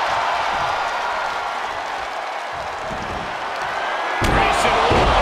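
Arena crowd in the wrestling video game WWE 2K23, a dense steady roar of cheering and applause that swells louder near the end, with a commentator talking over it.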